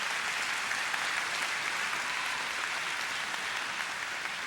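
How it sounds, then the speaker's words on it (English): A graduation commencement audience applauds steadily throughout, a dense, even wash of clapping from a large crowd that holds at one level without any talk. "So a big round of applause to you."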